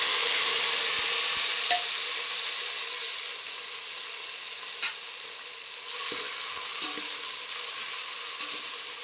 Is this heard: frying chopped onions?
yes